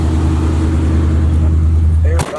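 The engine of a Chevy box car idles with a steady, deep low rumble, close and loud, then cuts off sharply near the end.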